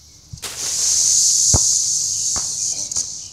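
A steady, loud high-pitched insect drone fills the clip, a dense chorus of cicadas during a mass infestation, with a few sharp thumps breaking through underneath.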